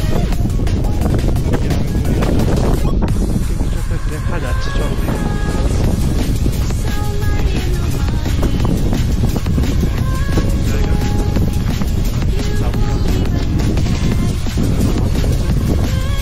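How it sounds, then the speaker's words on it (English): Strong, cold wind buffets the microphone at high-altitude Gurudongmar Lake in Sikkim, a loud continuous roar of gusts with a voice faintly mixed in. "There was so much cold wind blowing"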